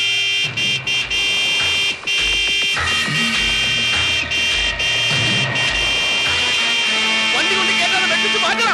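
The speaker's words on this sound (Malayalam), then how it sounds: "നീ ഹോണടിച്ച് വണ്ടി വിട്." A vehicle horn blares in a Malayalam comedy film scene, with sustained tonal honks of several lengths over engine and traffic noise and a busy soundtrack.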